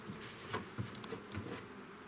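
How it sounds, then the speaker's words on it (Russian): Honey bees buzz around a warm, occupied beehive at an apiary during hive inspection, a quiet, continuous insect hum with individual bees passing close by in short swells. "Улей теплый, пчелам в нем комфортно."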